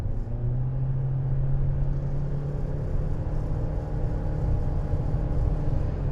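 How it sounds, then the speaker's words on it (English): A Chery Tiggo 7 PHEV hybrid SUV accelerates hard in sport mode, heard from inside as a loud, steady rumble of engine and road noise with a rising drive tone. "So I'm going to put my foot down, 1, 2, I'm in sport"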